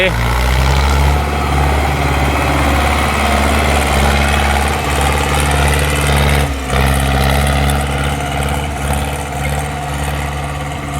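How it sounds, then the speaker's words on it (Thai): A Ford 6610 farm tractor engine runs loud and close, a steady deep throbbing drone with a brief dip partway through, full of rich low harmonics. "กินข้าวเลี้ยงมานั่งเบิ้งรถไถ"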